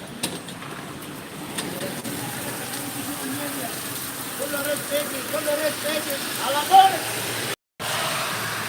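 Rain falling outdoors in Saudi Arabia, a steady even hiss of drops on surfaces with faint birds, a passing car and soft distant voices, ending in a brief cut of silence.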